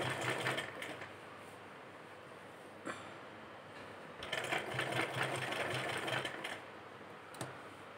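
Sewing machine stitching a folded fabric strip onto a garment neckline, a steady close rattle that runs in bursts with brief pauses and a couple of sharp clicks, no talk over it.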